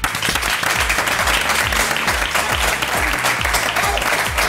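A TV studio audience applauds a singer arriving on a French regional talk-show set, with dense, sustained clapping that stays loud and even throughout, no voices on top.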